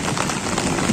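Heavy rain pours down steadily during a windless Nellore thunderstorm, a dense continuous hiss of drops striking surfaces up close; no thunder clap stands out.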